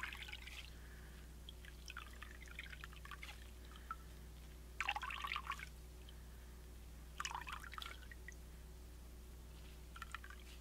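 Water squeezed by hand from a wet knitted cowl during blocking, heard as a few brief dripping, trickling bursts spread out over otherwise quiet stillness, close by and faint.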